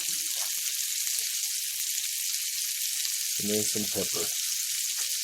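Steaks sear in a pan with a constant hiss, while a voice speaks briefly over the sizzle.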